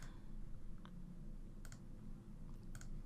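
Faint computer keyboard typing, a few quiet isolated key clicks spread over a soft background hiss, with no talking.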